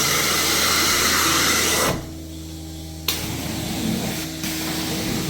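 An apartment carpet cleaning machine hums and hisses loudly and steadily, with the suction noise dropping away for about a second before returning at a somewhat lower level.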